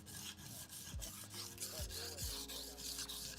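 Blade being sharpened on a stone, steady scraping strokes repeating in a quick back-and-forth rhythm, close and fairly quiet, with no talk.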